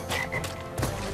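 Frog croaks from the Crash Bandicoot 3 video game, two or three short rasping calls close and clear over faint game sounds.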